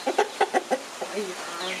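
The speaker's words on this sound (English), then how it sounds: "Look what beautiful chicken they have here. Very nice fighting chicken here." A fighting rooster in Sulawesi clucks in a quick run of five or six short, close pulses, followed by softer calls and faint background sound.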